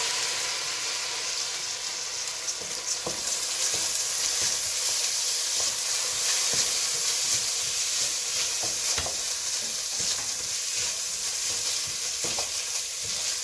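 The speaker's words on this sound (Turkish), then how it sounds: "Pembeleşinceye kadar kızartıyoruz." Steady sizzling of rice frying in a pan, with intermittent scraping and clinking of a utensil stirring, continuous and fairly close.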